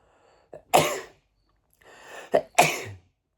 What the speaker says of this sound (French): Je fais que d'éternuer.